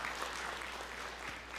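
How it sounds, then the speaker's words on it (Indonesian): A church congregation applauding, a steady wash of clapping hands held at a fairly even level throughout. "Beri tepuk tangan yang meriah buat Tuhan."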